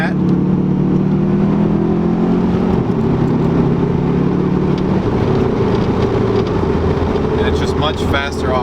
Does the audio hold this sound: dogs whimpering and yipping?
no